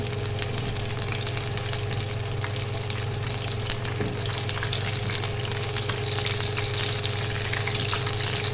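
Potato cheesy bites fry in hot oil in a pan, a steady, close, dense sizzle that runs evenly throughout with no talking.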